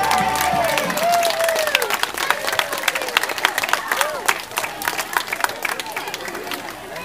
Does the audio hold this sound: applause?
yes